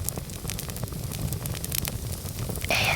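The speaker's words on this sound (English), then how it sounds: "Hear the fire in your ears." A small outdoor campfire burns steadily nearby, its broadband hiss and scattered soft crackles running throughout, with a brighter, louder burst of flame noise in the final moments.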